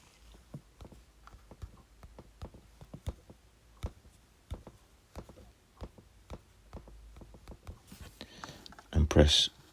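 Keys clatter on a computer keyboard as a customer username is typed in short irregular bursts, close and clear, followed by a louder rustling burst near the end.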